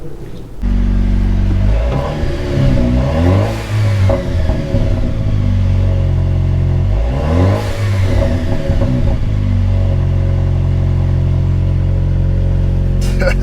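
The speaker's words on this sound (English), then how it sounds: "TG, I go pull the Jeep around here and get to taking this back end apart." A 2021 Jeep Wrangler JL Rubicon with a resonator delete and blow-off valve revs loudly while driving, its engine rumbling steadily with two distinct rising rev sweeps and some faint talk under it.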